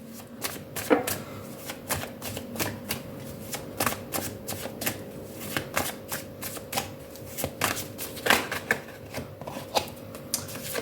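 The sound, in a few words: shuffling tarot cards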